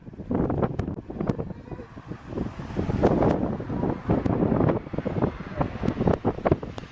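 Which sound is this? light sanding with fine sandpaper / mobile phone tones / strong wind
strong wind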